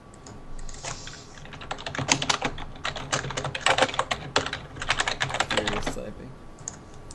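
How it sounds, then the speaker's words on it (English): Rapid, furious typing on a computer keyboard, dense bursts of clattering keystrokes close by, building and easing over several seconds, with faint speech in the background. "Furiously typing."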